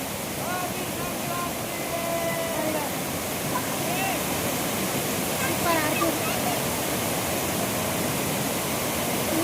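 Steady, dense roar of rushing water from the Edupayala Durga Mata waterfall, fed by a brimming dam, continuous and close throughout, with faint voices occasionally rising above the torrent.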